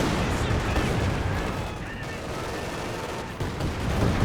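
Dense continuous battlefield din from Company of Heroes 2, with rolling artillery barrage and rapid gunfire layered into a steady roar, loud throughout with no clear gaps.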